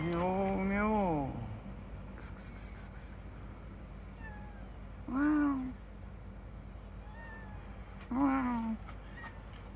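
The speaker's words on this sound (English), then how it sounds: "Beautiful calico cat." Calico cat on a roof meowing three times: one long drawn-out meow near the start, then two shorter ones a few seconds apart, each fairly close and clear over faint background hiss, with a person's brief exclamations in between.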